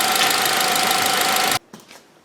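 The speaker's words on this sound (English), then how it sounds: "let me turn this engine off" A 2008 Ford Focus four-cylinder engine, just fitted with a new fuel injector, idles loud and close with a steady drone and a faint whine, then shuts off abruptly, leaving a few quiet clicks.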